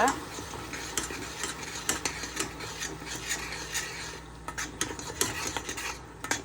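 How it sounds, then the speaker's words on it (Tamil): Garlic paste stirred and frying in hot oil for a spicy garlic thokku, a steady soft sizzle under repeated scraping strokes of a spoon against the pan, close and moderately quiet. "நான் பூண்டு பேஸ்ட்டை ஆட் பண்ணிட்டேன். அதை வந்து நல்லா மிக்ஸ் பண்ணிக்கலாம்."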